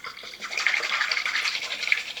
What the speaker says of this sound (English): a pint of heavy cream, a 1/3 cup of sugar, and I'm going to put 1 teaspoon of vanilla. And I'm just going to whisk